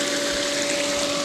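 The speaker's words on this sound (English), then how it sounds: "Now I'm just draining the pool." A pool pump runs on the waste setting, draining water out of the pool with a steady, loud, unbroken mechanical whir and rush that holds level throughout.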